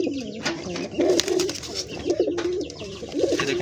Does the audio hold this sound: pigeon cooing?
yes